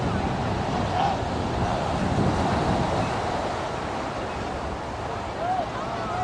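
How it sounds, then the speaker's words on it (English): Low ocean waves breaking on a Hawaii shore: a continuous soft wash of surf mixed with wind rumble against the microphone, steady and moderately loud throughout, with a faint voice in the background. "Very low, the waves today."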